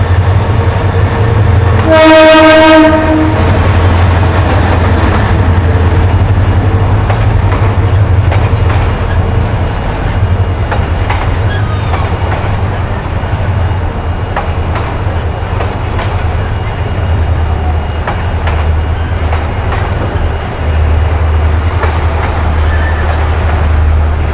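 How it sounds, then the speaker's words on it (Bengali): A train rolls slowly along tracks running through a fish market, its horn sounding briefly near the start, then a steady low rumble and rattle of passing wagons continuing close by and loud throughout. "এই যে দেখুন, একটি ট্রেন আসছে এখন।"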